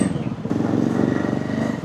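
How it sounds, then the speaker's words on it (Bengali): KTM 250 Adventure 2026 motorcycle pulling in to park on BT Road, Kolkata, its engine a close, steady low throb with a pulsing idle-like rhythm for the brief moment. "এখানে এসে বাইকটাকে পার্ক করে দেবো।"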